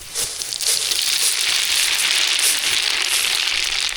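Cumin seeds sizzle in hot oil while pongal is tempered, likely in a large batch cooked for a temple meal for 200 people. A loud, continuous, dense crackle and hiss runs steadily throughout, with no voices.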